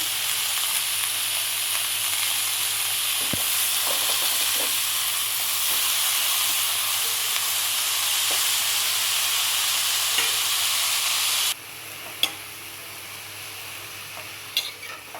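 Chopped vegetables with onion being stirred and fried in a pan: a continuous close hiss of sizzling with occasional spoon scrapes, easing off and quieter for the last few seconds.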